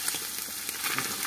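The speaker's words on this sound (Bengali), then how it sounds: "হ্যাঁ, একটু নেড়ে দিলাম।" Fish frying in a pan with a steady close sizzle for about a second, with a few soft scraping stirs against the pan.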